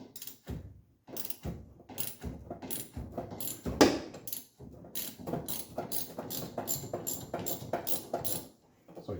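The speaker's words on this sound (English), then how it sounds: "it's important to take the bolt all the way out" A bolt is worked out of the steering joint on a Triumph TR3, with ratchet clicks, metallic creaks and clinks in irregular bursts heard close up, a sharper scrape near the middle.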